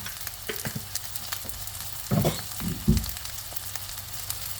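Crab stick fried rice with egg is stir-fried in a pan, a constant close sizzle punctuated by a couple of heavier scraping tosses midway, with no voices.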